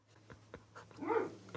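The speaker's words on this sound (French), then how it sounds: "avec les chiens qui d'ailleurs font la fête là en dessous" Sled dogs in a Jura forest yelp and whine in a short, excited burst, several close barks building to a louder whimpering cry, with no talking.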